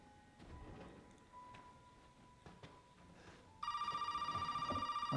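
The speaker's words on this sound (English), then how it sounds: "I'll cut out the phone call." A telephone in the horror video game Resident Evil 7 starts ringing partway through, a loud repeated electronic trill after a stretch of quiet footsteps and faint room noise.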